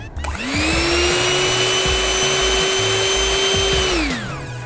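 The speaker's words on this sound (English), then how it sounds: "Back with our trusty little power drill is what it sounds like" Small inexpensive power drill spins up on its highest setting, a steady high-pitched motor whine that holds loud and close for about four seconds before winding down, with a faint rhythmic clatter underneath.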